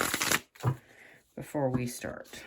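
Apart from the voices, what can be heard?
tarot cards being shuffled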